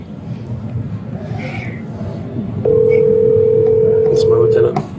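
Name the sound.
telephone call tones on a speakerphone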